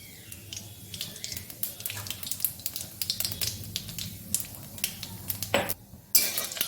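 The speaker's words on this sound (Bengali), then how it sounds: "তেল দিয়ে দিলাম খানিকটা, আর দিয়ে দিলাম কালো জিরে।" Black cumin (nigella seeds) fry in a little oil in a pan, with a soft continuous sizzle, scattered clinks of a utensil against the pan and stirring scrapes, close by.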